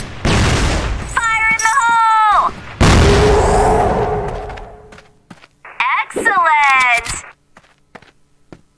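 Flash grenade explosions in the Crossfire shooter game, two sharp broadband bursts with the second decaying over a couple of seconds, interleaved with in-game voice callouts and scattered gunfire clicks.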